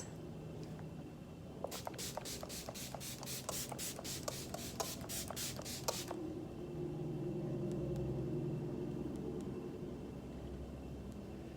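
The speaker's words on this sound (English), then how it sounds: "So now we're gonna spray our face." Setting spray misted onto a face during makeup, about a dozen quick rapid pump sprays in a burst, close and crisp, then stopping and leaving a low background hum.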